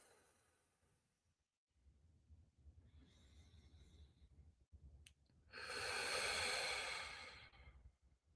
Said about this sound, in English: So we're gonna breathe in through our nose, out through our mouth